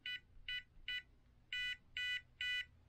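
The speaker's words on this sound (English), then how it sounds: "So you get your three beeps when you do it incorrectly" Two sets of three sharp electronic error beeps from a SecuRAM SafeLogic X Treme safe lock after a wrong combination, the second set longer and louder, close by.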